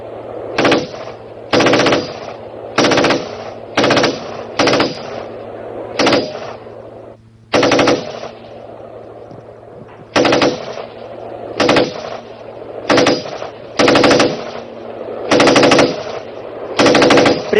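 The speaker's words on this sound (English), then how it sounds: "you can hear the opposition forces firing on our" Loud machine-gun fire from a navy show demonstration at Punnami Ghat, Vijayawada, ripping out in about a dozen short, rapid bursts separated by brief gaps over a steady low hum.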